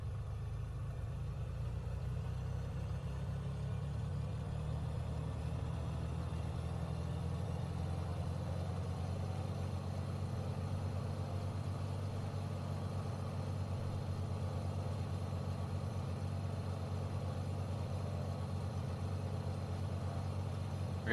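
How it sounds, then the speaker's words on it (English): Simulated piston engine of a Beechcraft Bonanza in Microsoft Flight Simulator, throttle advanced to about 1700 RPM during run-up; a steady, loud low droning hum holds throughout with no talk. "let's listen to some of these engine sounds as we then advance the throttle through to 1700"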